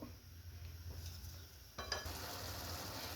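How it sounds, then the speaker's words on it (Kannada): Hyacinth bean curry cooking in a covered pot, a steady low simmering bubble and faint sizzle running throughout, with a brief clink of the lid or utensil near the middle. "ಈಗ ನೋಡಿರಿ ಕುದೀತಾ ಇದೆ."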